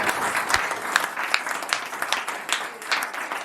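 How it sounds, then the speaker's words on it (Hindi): Audience applause at a Hindi comic poetry recital in Bhopal, a dense sustained wash of many hands clapping close and steady for the whole stretch, with no voices over it. "जोरदार तालियां"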